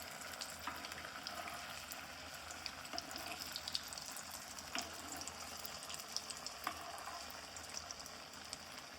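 Aloo tikki potato patties frying in hot oil, a steady broadband sizzle with small bubbling crackles running continuously throughout, close and fairly quiet, with no voices.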